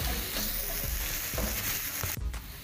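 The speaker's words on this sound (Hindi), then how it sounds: "और इसमें अदरक लहसुन चॉप किया हुआ डाल दूंगी। इसको बस 1 मिनट के लिए हमने भूनना है।" Chopped ginger and garlic fry in about three tablespoons of hot oil in a pan, a steady loud sizzle broken by several sharp stirring scrapes, with no voices.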